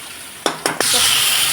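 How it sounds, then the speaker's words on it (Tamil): Spiced masala for tomato rasam dropped into hot oil, a few quick stirring clatters followed by a loud, continuous close sizzle. "லைட்டாக ஒரு 2 செகண்ட்ஸ் வந்து இதை வந்து எண்ணெயில் நல்லா வதக்கிடலாம்"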